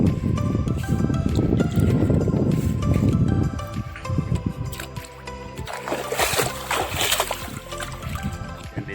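Lake water splashing and lapping close by, a dense rush at first, then irregular small splashes and gurgles over a softer wash.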